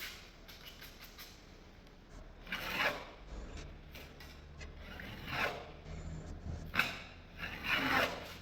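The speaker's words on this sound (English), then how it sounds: "And then I'm going to go ahead now and start applying my compound. Mix it a bit so it's nice and smooth." Close scraping and rubbing as drywall joint compound is mixed and spread, a series of soft rasping strokes that swell and fade several times, with no talking.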